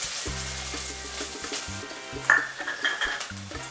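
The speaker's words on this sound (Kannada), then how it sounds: "ಈರುಳ್ಳಿ ಸ್ವಲ್ಪ ಹೊತ್ತು ಎಣ್ಣೆಯಲ್ಲಿ ಚೆನ್ನಾಗಿ ಫ್ರೈ ಆಗಬೇಕು" Onion frying in hot oil in a pan for samosa filling: a steady close sizzle with occasional stirring scrapes, over soft background music.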